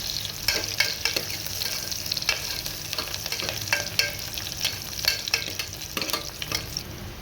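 Garlic and green chili sauté in hot oil for pasiparu sambar, a continuous sizzle with quick repeated spatula scrapes against the pan.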